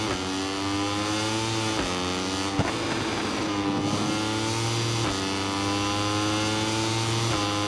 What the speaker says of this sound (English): Try and feather the throttle through this turn 3